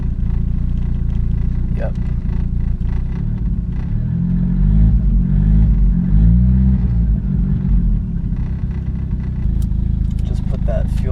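A Volvo 740 turbo engine with a rich-running fault starts and settles into a loud, rumbling idle close by, with a brief spoken word at the start.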